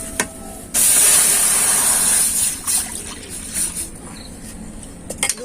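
Milk is poured into a hot pot while making chusi pitha, bursting into a loud, sudden hissing sizzle that holds for a couple of seconds, then thins into softer intermittent sputters and bubbling, with no talking.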